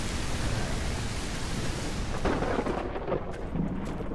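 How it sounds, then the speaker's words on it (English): Thunderstorm in the game Hunters: Uprising, a heavy wash of rain-like noise with low rumbling thunder swelling midway, close and enveloping, no voices. "Oh, we've got a storm coming."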